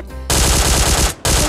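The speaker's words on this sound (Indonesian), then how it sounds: "ada yang tembak saya" Rapid automatic gunfire in the video game PUBG Mobile, a loud close burst of shots, a brief gap, then another burst starting, alone without talk.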